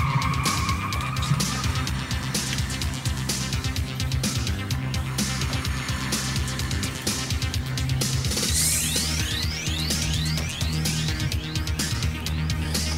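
Traffic sound effect of cars roaring past with engines revving and tires skidding and squealing, loud and continuous, with sharp screeches building in the second half.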